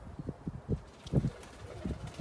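Domestic pigeons coo softly nearby in low, repeated throaty pulses, fairly faint against a quiet background with no talking.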